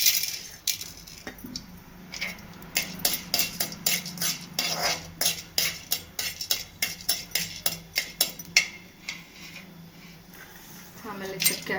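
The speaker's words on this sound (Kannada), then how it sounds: "ಮೆಂತ್ಯ ಹಾಕ್ಬಿಟ್ಟು ಲೋ ಫ್ಲೇಮಲ್ಲೇ ಹುರ್ಕೋಬೇಕು" Fenugreek and black pepper roasting in a little oil in a pan over a low flame, heard as repeated metallic clinks and scrapes of a spoon stirring, close and fairly quiet, with a voice speaking at times.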